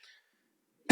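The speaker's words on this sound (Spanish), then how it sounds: "esa tos no la mencioné" A single short cough, loud and close, comes at the very end after near silence.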